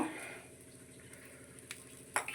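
Deep-fried fish pieces being stirred and tossed in a pan while making fish 65, a steady close scraping and light sizzle with a couple of sharper clinks near the end.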